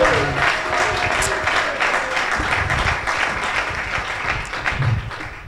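A church congregation applauds during a Sunday worship service, a dense, steady wash of many hands clapping together for several seconds, with a few voices mixed in.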